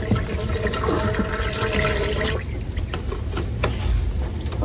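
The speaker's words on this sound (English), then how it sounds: "I just put some water in there and it fills that up" Water pouring and gurgling into an animal waterer inside an indoor animal pen, a steady splashing rush that cuts off partway, followed by softer trickling and dripping sounds.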